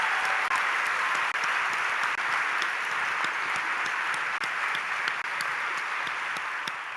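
An audience applauds Chelsea Clinton at a team event, a steady, dense wash of clapping that holds at full strength for several seconds and eases only slightly at the end.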